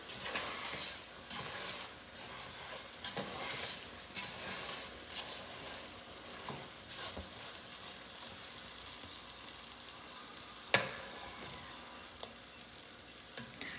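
Caramel melting in a pan over a high flame as it is stirred, giving a steady soft sizzle with scraping strokes of the spoon, one sharp clink near the end, and no talking.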